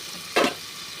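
Chopped tomato drops into hot oil with a frying ginger-garlic masala for vegetable egg biryani, producing one brief, bright sizzling burst that fades quickly.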